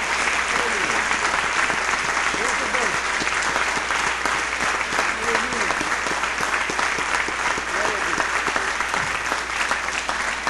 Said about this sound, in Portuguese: Vamos aplaudir Jesus agora de novo